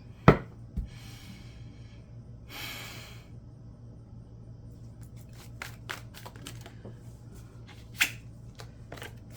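A tarot-style deck of cards with extra cards is shuffled in quiet bursts, with a soft riffle early on and sharp card taps and flicks scattered through the rest, alone and fairly faint.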